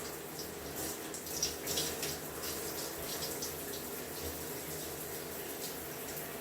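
Water runs steadily over a section of hair being wet for heat-free curl styling, a soft continuous spray or trickle at close range with no talk.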